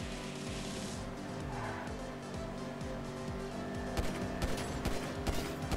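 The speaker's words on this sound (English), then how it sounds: "Are we getting shot" Rapid gunfire from the GTA V video game, bursts of shots crackling over a steady vehicle engine drone, with heavier, louder volleys toward the end.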